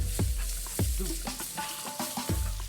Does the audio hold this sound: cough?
no